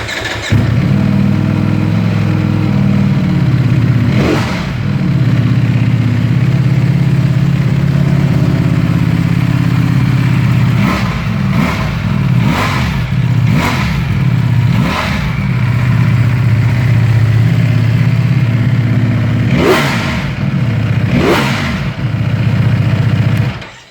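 A Ducati Panigale V4S motorcycle starts and settles into a loud, close idle, broken by a series of sharp throttle blips and revs in quick succession, no talking.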